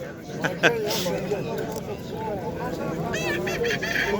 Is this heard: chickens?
yes